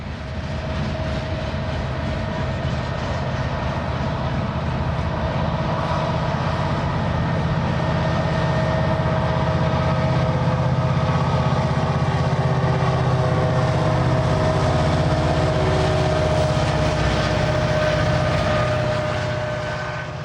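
A long Canadian Pacific freight train with a mid-train locomotive rumbles steadily past on the Alberta plains, with heavy, continuous low-pitched engine drone and rolling wheel noise, loud and unbroken throughout.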